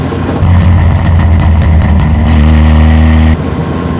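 An Alfa Romeo 33 race car driven on the road, its engine revving loud and close with a buzzy, steady drone that climbs in pitch, then drops back to idle.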